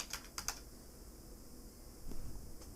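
A few quick keystrokes tapped on a computer keyboard at the start, then quiet room tone before another short cluster of typing, close but soft.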